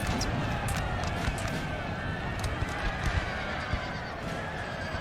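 Cavalry horses charge in the Napoleonic Total War 3 multiplayer battle game, with a dense wash of galloping hooves and whinnies over continuous battlefield noise and rumble.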